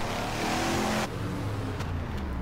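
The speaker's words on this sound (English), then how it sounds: "Alright, here we are with the lawnmower." Engine of a lawnmower vehicle in the Wreckfest racing game, a steady loud droning rev that drops abruptly in intensity about a second in, then continues at a lower, rougher hum.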